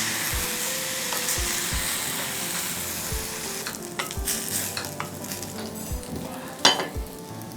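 Rice cooking in masala in a pan for mixed sprouts rice, stirred with a steady hiss of sizzling and regular scraping strokes of a spoon, close and moderately loud with no talking.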